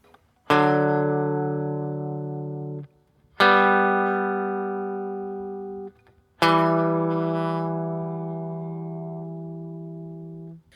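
Electric guitar plays three effect-laden chords, each struck once and left ringing with a thick, processed tone before fading.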